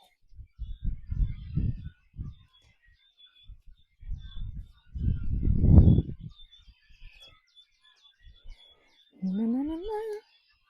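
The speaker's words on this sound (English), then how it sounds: "I don't know if you can hear the birds, but boy, are they chirping" Faint, high bird chirps scatter in the background while a person talks in bursts up front; a brief rising squeak shows up near the end.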